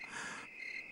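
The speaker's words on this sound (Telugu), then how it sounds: "దగ్గరలో కీచురాళ్ళు." Crickets chirp close by on a quiet midnight, a steady shrill trill that keeps going through the whole short stretch with no voices.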